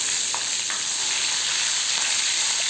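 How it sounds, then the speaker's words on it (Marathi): Mustard seeds sizzling and crackling in hot oil for a tempering, a dense unbroken hiss with faint pops, close and steady throughout, no voices. "आता तेल छान मस्त गरम झालेलं आहे आणि यामध्ये मी मोहरी छान टाकलेली आहे. ती तडतडली की मग आपल्याला जिरं घालून घ्यायचं आहे."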